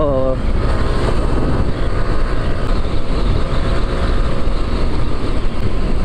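A Suzuki big bike motorcycle races past at speed on the road, a loud continuous engine roar heard close from another rider's bike amid heavy wind rush.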